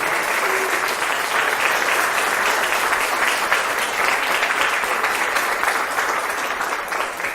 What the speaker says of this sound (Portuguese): eu queria que você aplaudisse e glorificasse o nome do Senhor